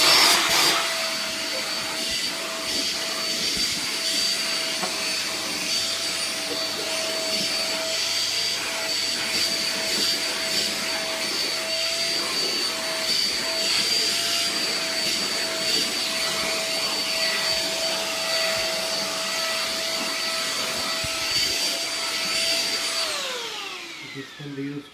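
A Euroclean Litevac vacuum cleaner fitted with an upholstery nozzle runs with a steady, loud motor whine and airflow rush for nearly the whole stretch, then winds down at the very end.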